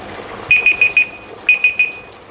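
A kitchen timer goes off while arrabbiata sauce cooks: two loud, close bursts of sharp, rapid electronic beeps, about four beeps each, separated by a short pause.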